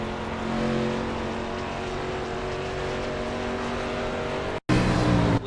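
Race car engine heard onboard in the iRacing video game during a Busch series race at Phoenix, a loud steady drone with sustained engine tones that cuts out abruptly near the end, then returns loud; no talking.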